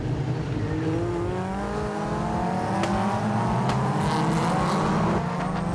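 A pack of Caterham race cars at a race start at Monza, engines droning and revving together in overlapping pitches as they accelerate past, loud and continuous with no talk.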